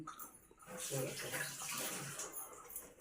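Water running from a tap while hands are washed, a steady close splashing rush that swells and then eases off, with faint voices in the background.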